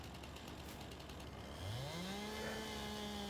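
A chainsaw in the Farming Simulator 19 forestry game starts up and revs, its engine tone climbing into a steady whine as a tree is felled; the sound is faint and distant.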